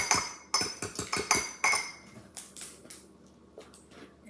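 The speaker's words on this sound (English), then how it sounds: "Whisk that up." A fork whisks a freshly cracked egg against a bowl in a home kitchen, giving a quick run of sharp, close clinks that taper into sparser, fainter taps.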